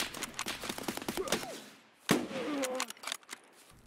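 Gunfire in the shooter game Escape From Tarkov: a few sharp, fairly faint shots crack out against a busy background, with one stronger report near the middle followed by rumbling echo.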